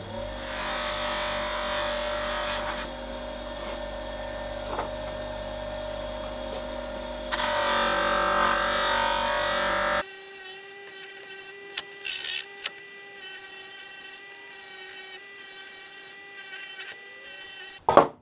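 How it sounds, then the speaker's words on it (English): A bench grinder's polishing wheel whines steadily, its pitch shifting midway, then intermittent scraping and polishing bursts as a hammer head coated with polishing compound is pressed against it. "I am actually going to go over to my bench grinder"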